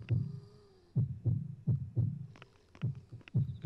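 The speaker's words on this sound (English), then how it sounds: "I can hear my heart beating, so I know that there's a demon somewhere nearby" A heartbeat warning sound from the video game Yomawari: Midnight Shadows, played on the PlayStation Vita, that signals a demon nearby: a steady, low, thudding double-beat rhythm repeating about every half second, heard alone and fairly soft.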